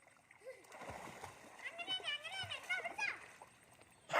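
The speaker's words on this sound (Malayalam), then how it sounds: "ഒരാൾ ആദ്യമേ നീന്ത് ഉണ്ണി നീന്തിക്കോ" A child swimming sets off close, steady water splashing and churning, while voices talk over it throughout.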